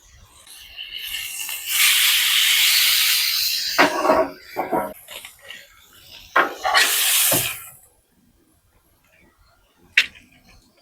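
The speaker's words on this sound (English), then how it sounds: "Go ahead and sear that infused, give it some extra flavor." Deer roast searing on a hot surface, with bursts of loud hissing sizzle that swell and fade in waves, pausing between flare-ups before a final short crackle.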